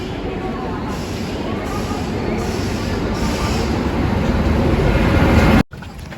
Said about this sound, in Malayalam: അപ്പോൾ നമുക്ക് കയറാനുള്ള ട്രെയിൻ വന്നു കേട്ടോ